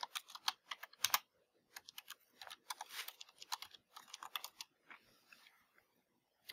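A command typed on a computer keyboard in a Raspberry Pi terminal: quiet, irregular bursts of crisp key clicks with short pauses between them, close by and without speech.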